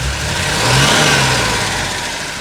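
A Ford Sierra Estate Mk1 4x4 Ghia 2.8i engine runs close and loud with a slight misfire, holding a steady rough hum that swells briefly as it revs, with no talking.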